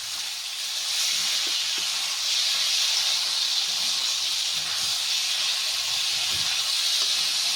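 Tomato sauce hitting a hot pan in a home kitchen, a steady loud sizzling hiss that swells after the first second and holds, with faint clinks beneath.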